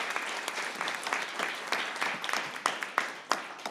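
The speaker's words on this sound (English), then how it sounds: "let's give everyone one more round of applause" Audience at a student startup pitch competition applauds steadily, a dense patter of many hands clapping with a few sharper, louder claps standing out toward the end.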